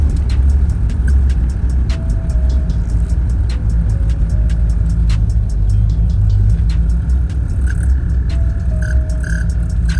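A 1992 Chevrolet Camaro Z28 V8 accelerates roughly, its engine rumble loud and close from inside the car, with steady low drone and occasional clicks and rattles.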